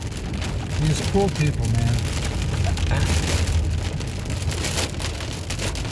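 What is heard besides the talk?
heavy rain and hail hitting car during thunderstorm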